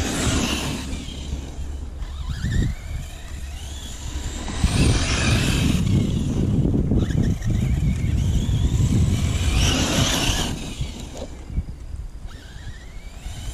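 Hobao Hyper Cox RC car driving at low speed, a buzzing electric-motor whine that rises and falls with bursts of acceleration and tyre and gravel noise, fairly close with no talk.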